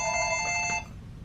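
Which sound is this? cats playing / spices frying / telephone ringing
telephone ringing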